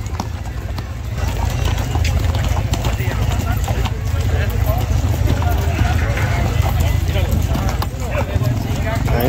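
Horse hooves clip-clop steadily at a quick pace during a large cavalcade in Mexico, with a dense crowd din and people talking throughout.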